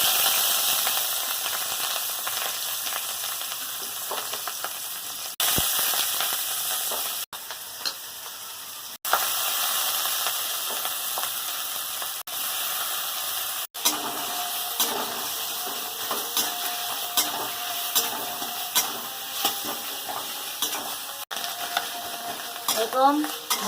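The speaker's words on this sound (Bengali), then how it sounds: "এরকম ভালো করে মাশরুমটাকে চাপা দিয়ে দিয়ে ভেজে নেব" Squeezed mushrooms fry in hot oil with a constant crackling sizzle, broken by a few abrupt cuts, while stirring and pressing add soft scrapes and bubbling pops close by.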